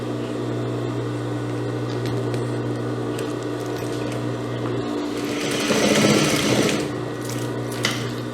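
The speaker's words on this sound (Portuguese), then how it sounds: "passar uma costura aqui na máquina" A sewing machine runs steadily, stitching the hem of fabric for a wide-leg jumpsuit, a continuous whirring drone that swells louder near the end, close up with no speech.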